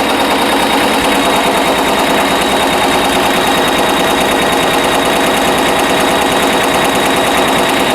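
An embroidery machine stitches a design onto a travel bag, giving off a steady, close, fast mechanical rattle that runs without a break and with no talking.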